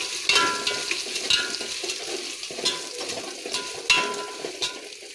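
Onions, green chillies, mint and curry leaves fry in oil and ghee, a moderate crackling sizzle with repeated scraping stirs at close range, no talk over it.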